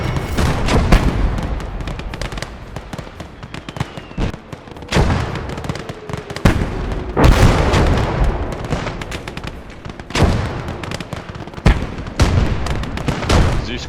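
Howitzer and mortar artillery in the World War II game Gates of Hell, with repeated loud booming blasts and rumbling impacts throughout, some shots overlapping into dense barrages with brief lulls between.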